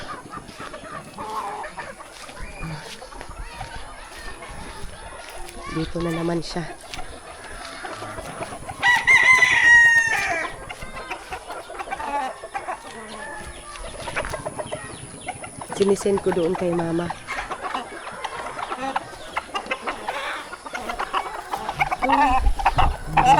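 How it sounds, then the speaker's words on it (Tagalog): Chickens cluck and squawk busily up close as they are fed, with a rooster crowing partway through, while a person talks intermittently over the flock. "Itong pagpapakain niya ng mga manok."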